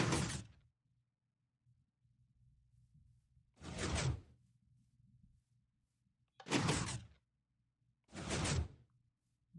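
Minecraft piston doors opening and closing, four separate sharp whooshing bursts at uneven intervals against a low hum, loud and close with no talk.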